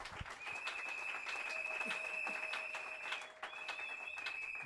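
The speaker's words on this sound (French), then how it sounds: "Acclamons très fort pour le Seigneur" Church congregation applauding for the Lord, a steady dense ripple of clapping throughout with a sustained tone running underneath and a brief dip near the end.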